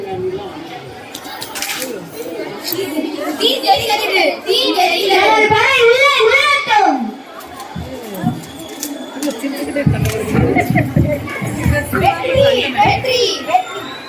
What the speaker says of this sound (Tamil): சிறிது நேரம் கழித்து கோட்டைக்குள் பெரும் கூச்சல் இருந்தது